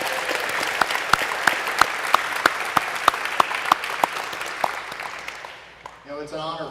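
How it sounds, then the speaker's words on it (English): An audience claps at a portrait exhibit opening reception, a sustained wash of applause punctuated by sharp nearby claps, fading out before a voice begins speaking at the end. "Let's give a clap for those who are watching online."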